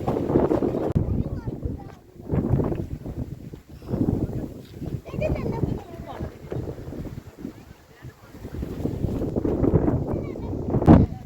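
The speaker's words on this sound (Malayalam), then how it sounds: "ഒരു കാറ്റ് കാരണം ഞാൻ ഒന്നും പറയണേ ക്ലിയർ ആവുന്നില്ല" Gusty wind at the Ramakkalmedu hilltop buffets the microphone in low rumbling bursts that rise and fall throughout, with a steady roar underneath.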